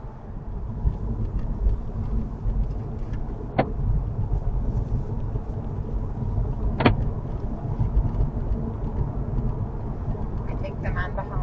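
A car travels along a motorway at 70 mph, its steady road and engine rumble continuous throughout, with a couple of brief clicks over it.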